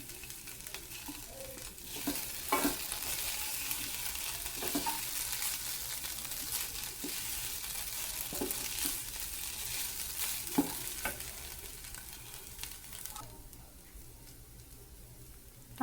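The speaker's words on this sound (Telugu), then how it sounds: "ఆనియన్స్ బాగా ఫ్రై అవ్వాలి ఫ్రెండ్స్." Onions fry in a pan for a poppy seed curry, with a steady sizzle broken by scraping stirs and spoon knocks, close by and without talk, the sizzle easing slightly near the end.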